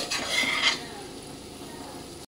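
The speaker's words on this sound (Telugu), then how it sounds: "ఫ్రై చేసి పెట్టుకున్న పన్నీర్, ఫ్రై చేసి పెట్టుకున్న జీడిపప్పు వేసుకొని ఒకసారి కలుపుకోండి" Spoon stirring fried paneer cubes and cashews through a simmering tomato curry in a pan, a close scraping, bubbling swirl that is busier for the first moment, then settles into a steady soft sizzle.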